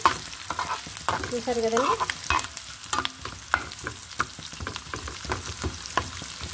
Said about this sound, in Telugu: జీలకర్ర, వట్టిమిరపకాయలు వెనకాల వేసుకోవాలి.